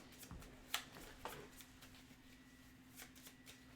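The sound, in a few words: shuffling playing cards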